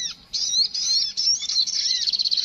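Call of a kleci or sogon bird played through a phone speaker, a run of high, thin chirps and warbling whistles repeating steadily, fairly close and alone.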